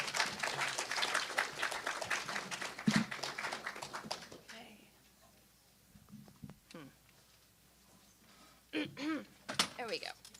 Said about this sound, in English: please give a warm round of applause to our guest